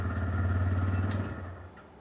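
A TVS Raider 125 motorcycle engine runs steadily just after starting, a close, low, even throb that fades slightly toward the end.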